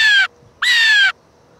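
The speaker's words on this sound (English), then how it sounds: "Your bird of the week. It's the blue jay." A blue jay gives two loud, harsh calls close by, the first short and the second longer, separated by a brief pause, with no other sound between them.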